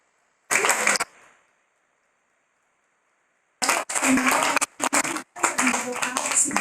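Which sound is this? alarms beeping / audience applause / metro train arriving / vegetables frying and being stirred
audience applause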